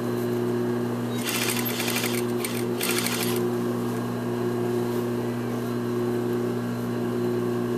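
A sewing machine hums continuously while stitching a jacket lining hem, with two short bursts of rapid needle clatter rising over the steady motor drone.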